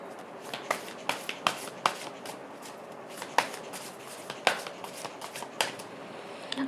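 Tarot cards are shuffled and drawn close by, a run of crisp snapping riffles and taps at an uneven rhythm over soft rustling, with no talking.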